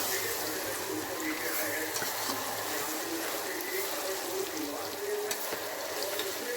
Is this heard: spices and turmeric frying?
yes